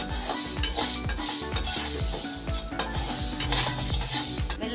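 Black urad dal roasting in a pan over a slow flame, with steady stirring and scraping of a utensil against the pan, soft sizzling and frequent light clinks, close and continuous with no talking.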